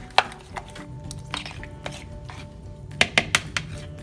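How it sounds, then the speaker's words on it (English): Eggs with garlic powder being beaten in a bowl, irregular clinks and taps of a utensil against the dish, close and fairly loud, bunched into a quick cluster near the end. "we are just going to mix this up, beat those eggs"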